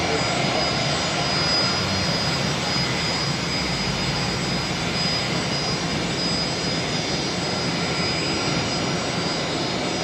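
A 29-year-old airliner at Brisbane Airport roars loudly and continuously with broadband jet engine noise, close and steady throughout, with faint voices beneath.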